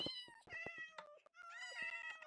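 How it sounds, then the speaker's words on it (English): Several Minecraft cats meow in quick overlapping succession, a steady run of bright, tonal meows close by with no talking. "I'm hearing a lot of gato."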